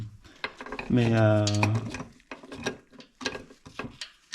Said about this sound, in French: je l'enquille sur une clé à cliquer. Et là, je peux du coup dévisser